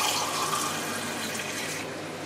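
Water runs steadily from a tap into a cup in a kitchen where chicken adobo is being cooked, a close, even hiss that tapers slightly near the end.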